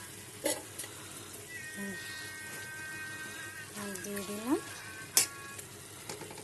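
Pieces of rui fish, already fried, drop into sizzling masala with a hissing fry, a few sharp clatters and faint tonal, voice-like sounds in the background.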